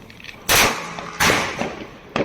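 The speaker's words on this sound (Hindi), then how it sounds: "फिर इधर देवर जी भी पटाखे फोड़ रहे होते हैं।" Diwali firecrackers set off by a family member at home, two loud sharp bursts close by with a smaller pop at the end, each trailing into a brief noisy decay.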